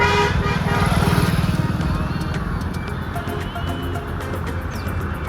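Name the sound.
motorcycle engine starting after refuelling with petrol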